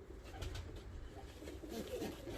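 Ornamental costume pigeons cooing softly in a loft, low murmuring coos repeating faintly over a steady background hum, with no voices.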